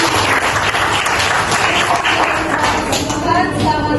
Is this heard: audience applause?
yes